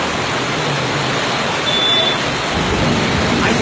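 Heavy rain pours down at Tolichowki in a dense, steady roar, with low thunder rumbling beneath the constant wash of water, loud and close throughout.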